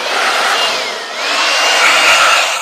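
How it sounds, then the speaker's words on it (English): Compressed air hisses in a continuous loud blast as dust is blown off a cordless circular saw, dipping briefly in the middle before surging again. "you want to blow your tool off, clean your tools off really well"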